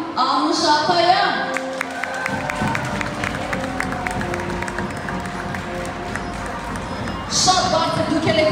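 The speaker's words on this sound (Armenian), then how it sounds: "Շատ բարձր դուք եք ծափահարում" An audience at a school educational parade honoring first-graders claps loudly and steadily, a dense wash of applause mixed with crowd noise and cheering, with voices and other sounds running underneath throughout.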